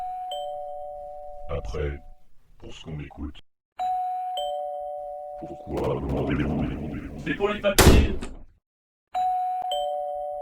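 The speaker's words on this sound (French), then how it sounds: "Je ne suis pas sûr que s'acharner sur la sonnette soit la solution." A doorbell rings again and again, a clear electronic chime that repeats in bursts with short silences between, while people talk in French in between the rings.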